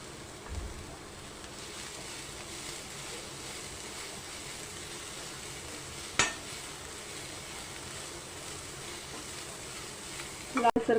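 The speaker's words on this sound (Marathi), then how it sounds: "आपली कढई गरम झालेली आहे. आता आपण याच्यामध्ये कांदा टाकून घेऊया." Chopped onion dry-roasting in a hot kadhai for masala pasta, stirred steadily: a faint, even hiss runs throughout, with a sharp scrape of the spoon near the middle and a few clatters at the end.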